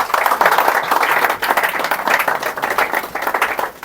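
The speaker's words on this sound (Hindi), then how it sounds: "तालियां हो जाए।" A small group claps steadily for several seconds, a lively, close round of hand claps without voices.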